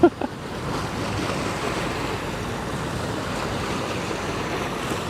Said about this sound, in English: the waves are hitting the shore. That's what you hear.